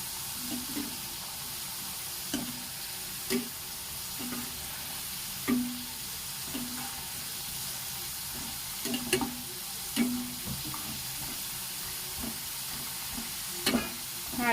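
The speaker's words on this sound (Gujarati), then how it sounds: "આપણે ચિપ્સને ગોલ્ડન કલર આવવા દેવાનો છે ત્યાં સુધી આપણે તળી લેશું।" Potato chips deep-frying in hot oil give a steady hiss, broken by repeated clinks and scrapes of a utensil turning the slices. Sharper taps land every second or two, and no one speaks.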